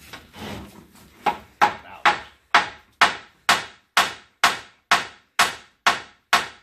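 Hammer strikes ring out on an 1800s cast iron coffin, about a dozen sharp, evenly spaced blows in a steady rhythm, each with a short decaying ring, close and loud after a brief scuffle of handling.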